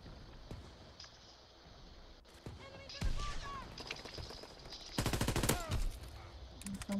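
Rapid bursts of automatic gunfire and sharp single shots crackle through a Call of Duty: WWII team deathmatch, loudest in heavy volleys toward the end, with brief voices cutting in.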